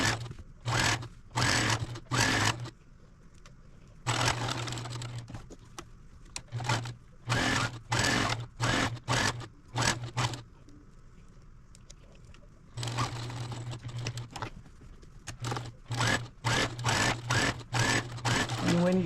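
A sewing machine stitches a Halloween placemat in repeated short runs of rapid needle chatter, pausing between bursts as corners are pivoted with the needle down, with two longer steady runs.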